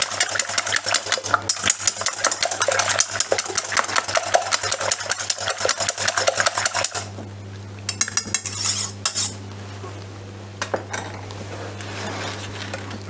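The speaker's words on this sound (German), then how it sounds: "die Eier werden verquirlt" Rapid whisking of eggs with a utensil against a bowl for a potato rösti roulade, a dense, steady clatter for about seven seconds. A low hum continues underneath, and a few scattered clinks follow after the whisking stops.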